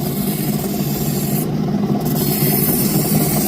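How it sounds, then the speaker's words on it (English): Opal being cut and domed on a grinding wheel outdoors, giving a continuous close rubbing, rasping grind with a steady motor hum underneath, running without pause. "Taking all the scratches out from the last wheel on our taper."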